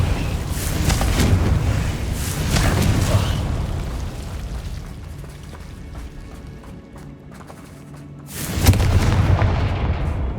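Confringo fire spells in Hogwarts Legacy burst with booming, rumbling explosions, loud and close. Two heavy blasts come early, a quieter rumbling lull follows, then another sharp explosion near the end.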